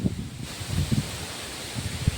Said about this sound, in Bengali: দেখো বন্ধুরা, কেমন বাতাস বইছে, দেখো হাওয়া হচ্ছে প্রচণ্ড